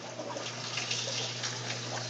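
Water overflowing in an aquaponic garden, a steady trickling and splashing flow running continuously, close but fairly quiet, with a low hum underneath and no talking.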